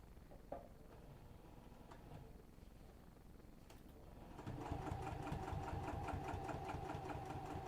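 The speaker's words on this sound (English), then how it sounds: "we're going to sew that dart" A sewing machine stitching a dart on a business bag, starting after a few faint handling clicks and then running steadily with a rapid rhythmic whir for the final few seconds, fairly close.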